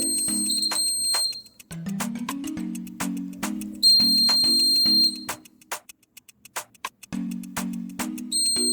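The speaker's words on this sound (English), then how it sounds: "The sensor senses the fire and sends a signal through to the buzzer" A homemade fire alarm buzzer buzzes in loud, repeated bursts, with short gaps and clicks between them and a higher electronic tone sounding in some bursts.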